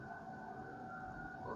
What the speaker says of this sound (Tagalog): dinig ang sirena ng paparating na truck ng bumbero